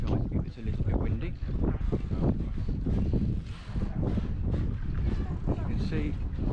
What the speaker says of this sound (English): I do apologise if it's a little bit windy.